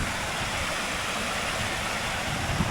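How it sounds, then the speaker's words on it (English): Waterfall on the High Sierra Trail, a loud, continuous broadband rush of falling water heard close up, steady throughout without talk. "Made it to the top of the waterfall that I saw all the way from over there."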